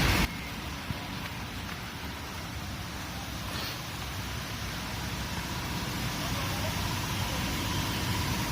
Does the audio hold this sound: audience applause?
no